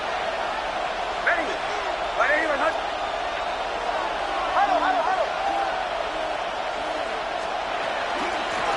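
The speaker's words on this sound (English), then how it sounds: "This crowd doing everything they can before 3rd and goal." Stadium crowd roar in an EA Sports football video game before a 3rd and goal play, a steady dense wash of cheering under continuous commentary talk.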